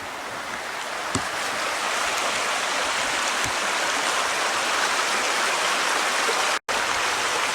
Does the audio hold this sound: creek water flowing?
yes